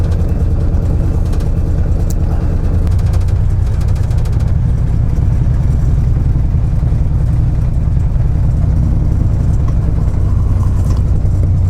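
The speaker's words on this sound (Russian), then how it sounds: "Грузно, тяжело очень идет машина, но оно и не мудрено. Почти 200 тонн тащим" Narrow-gauge diesel locomotive labouring under a heavy load of nearly 200 tonnes of peat, a steady loud low engine drone with rumbling growl throughout, no pauses or voices.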